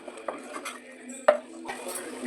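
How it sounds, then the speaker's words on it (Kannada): A spatula scrapes and clinks in a pan as egg puff filling with coconut is stirred over a medium gas flame; the sharp metal knocks stand out over only a faint frying hiss. "ಇವೆಲ್ಲನೂ ಹಸಿ ವಾಸನೆ ಹೋಗೋ ತನಕ ಫ್ರೈ ಮಾಡ್ಕೊಳ್ಳೋಣ"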